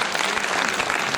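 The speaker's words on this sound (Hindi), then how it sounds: "फिर एक बार तालियों के साथ अभिनंदन" Audience applause at a formal felicitation ceremony on stage, a dense, steady wash of many hands clapping together, loud and continuous throughout with no talk over it.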